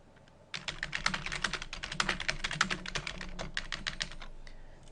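Typing on a computer keyboard, a close, fairly quiet run of rapid irregular key clicks that starts after a short pause and continues to the end, with no talk.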